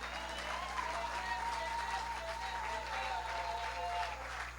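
A church congregation applauds its choir with steady, dense clapping that fills the room, while a low hum and a faint sustained tone run underneath.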